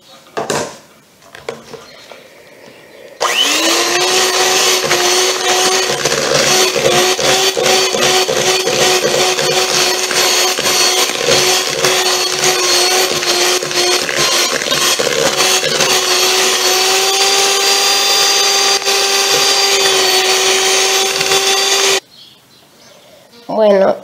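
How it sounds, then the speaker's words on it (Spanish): Electric mixer beating butter, two sugars and egg for mocha cupcakes, a steady loud whir running for about twenty seconds with rattling against the bowl, starting and stopping abruptly. "vamos a vaciar el huevo y volvemos a mezclar"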